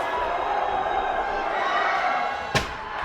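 A raucous crowd in a gym at a high school girls basketball game, with steady loud crowd noise throughout and a single sharp slam near the end.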